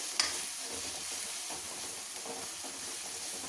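Spices stirred and sizzling in a hot pan for dhaba-style aloo gobi, with kasuri methi and hot red chilli powder, a steady close frying hiss with soft scraping of the spoon, no voices.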